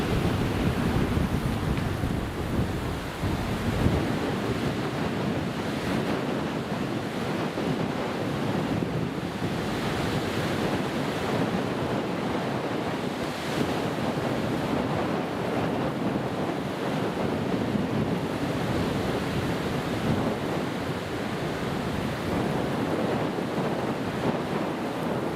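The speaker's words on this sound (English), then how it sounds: "Wind's picking up again." Strong wind roars steadily across an open airport apron at Newcastle International, a broad continuous rush buffeting the microphone with slight gusting swells and no voices.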